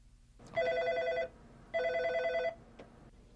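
A telephone bell rings in two long bursts separated by a short pause, loud and close in a quiet room, with no one speaking.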